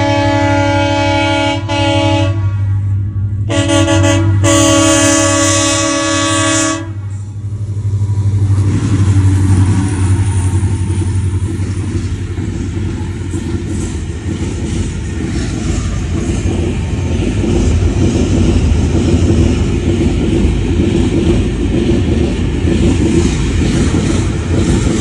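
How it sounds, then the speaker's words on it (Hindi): A train passes close by at a village railway crossing, its horn blaring in a few long blasts before the heavy rumble and clatter of the cars rolls on loudly and continuously. "तो रेलगाड़ी की इंतजार है, वो इधर से आ रही है,"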